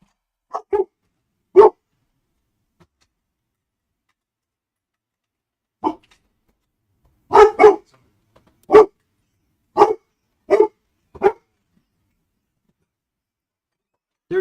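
Big black Labradors barking in separate bursts, a couple of single woofs early on, then a quick run of loud, close barks spaced about a second apart, with no talking.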